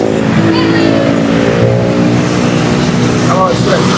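Motorcycle with a loud open aftermarket exhaust revving close by, a continuous harsh, rasping engine roar that holds loud throughout.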